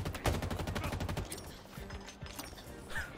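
Rapid automatic gunfire from a weapon in Halo Infinite rattles in a fast, loud burst, then gives way to scattered shots and game sounds.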